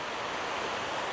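A roaring waterfall about 50 metres high and 100 metres wide in Vietnam sends up a dense, steady broadband rush, continuous and fairly close.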